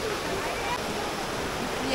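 A volcano-warmed river in the Costa Rican wilderness flows with a steady, broadband rushing wash, close and constant throughout, with no break in the sound.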